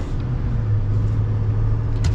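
A 2023 GMC Sierra 3500 Denali Ultimate pickup truck pulls away with a steady low engine drone heard from inside the cab, plus a faint click near the end.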